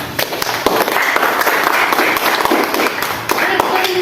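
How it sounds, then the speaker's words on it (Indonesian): Students in a classroom clap for their classmates in group 3, a loud, close patter of many hands with sharp individual claps standing out, and voices chatter beneath it. "Kita kasih langsung tepuk tangan dulu untuk kelompok 3 nak."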